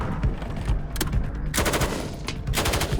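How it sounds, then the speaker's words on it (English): Live-fire weapons training for a film shoot, rapid automatic gunfire bursts with sharp cracks, several volleys in quick succession, close and loud with no talking. "Eventually, we ended up doing live fire shooting"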